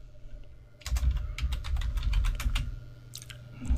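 Close computer keyboard typing during entry of a database query: a quick, irregular run of crisp key clicks starts about a second in and continues steadily to the end, with no voices.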